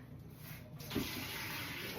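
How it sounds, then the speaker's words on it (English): Hot water pours from a tap into a big bowl, a steady hiss with a brief splashy surge near the middle, alone and fairly quiet. "Just a big bowl, and put nice warm water in it"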